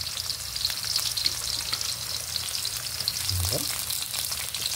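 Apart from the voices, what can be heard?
ginger and garlic aromatics sautéing in a pan for frog adobo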